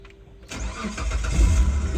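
A car engine cranks briefly after a quiet moment, catches and settles into a rough, close idle, all within about two seconds.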